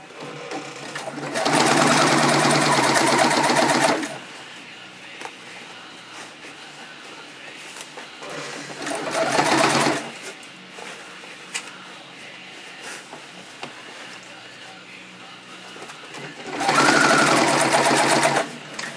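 A sewing machine stitches fabric, seaming gores and gussets, in three loud bursts of rapid whirring lasting a few seconds each, separated by quieter pauses.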